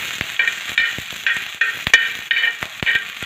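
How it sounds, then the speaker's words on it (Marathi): Garlic frying in a pan after green chilies were roasted, a steady sizzle with regular stirring scrapes and a few sharp spatula knocks, close and fairly loud, no talking. "थोडासा लसणाचा पण कच्चापणा निघेपर्यंत तो पण फ्राय करून घ्यायचा आहे."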